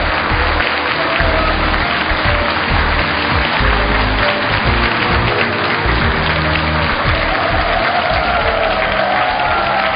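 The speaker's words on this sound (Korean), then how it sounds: "여러분 박수로 만나보겠습니다" A large audience at a televised public forum applauds to welcome a presidential office deputy spokesperson, a continuous roar of clapping with some cheering, dense and steady like heavy rain for the full length.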